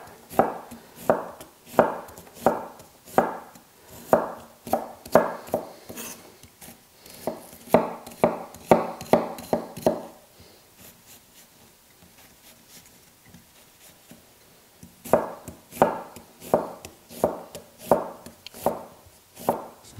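A knife chops an onion into coarse dice on a board, with quick, evenly spaced strokes in steady runs, a short pause, then another burst of chopping. The cuts are close and crisp, with no talk over them.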